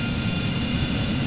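The aircraft engine drones loud and steady as a plane taxis toward the runway in the DCS flight simulator. A continuous rumbling roar with a constant high whine holds for the full brief moment, with no other sounds.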